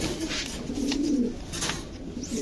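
Male pigeons coo continuously in low, throaty, rolling calls, close by and fairly loud, with several birds overlapping.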